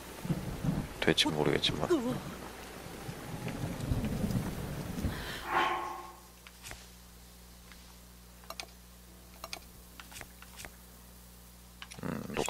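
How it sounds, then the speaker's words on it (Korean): In Zelda: Breath of the Wild, a shrine thunder trial brings lightning strikes with heavy rolling thunder and rain. A loud crash and rumble fade after several seconds into quieter ticking drops, with someone talking in Korean over it. "여기도 한번 번개치기 한번 해볼까요?"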